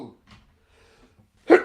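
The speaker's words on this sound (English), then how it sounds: "Ooh, sneeze." A single sharp sneeze bursts out near the end after some soft breathy sounds. It is short, loud and close.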